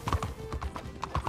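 A horse trots in a video game with quick, close hoof clip-clops in an even rapid rhythm, and a faint whinny is mixed in.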